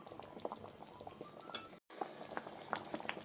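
Egg sambar bubbling in a pot, a continuous close simmer of small pops and gurgles, cut by one brief gap of silence.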